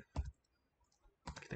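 A computer keyboard is used to type the command npm run dev while setting up a React project with Vite. Two quick, quiet bursts of key clicks are separated by a short pause.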